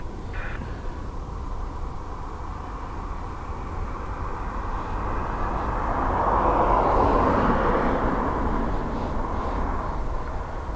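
A jet airliner takes off from the north runway at Dublin Airport, a steady broadband roar that swells over several seconds and then holds, heard from a distance with no talk over it.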